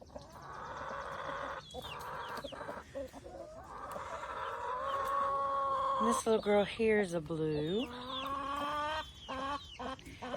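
Blue and splash hens, including lavender birds, cluck and call steadily in a backyard flock, with a louder burst of squawking near the end; someone talks over them throughout.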